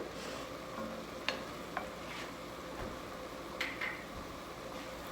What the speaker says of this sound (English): I'm going to stir that in